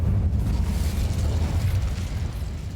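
The Incendio fire spell in Hogwarts Legacy gives a loud, dense rumbling whoosh of flames, a sustained burst lasting a few seconds with no talk over it.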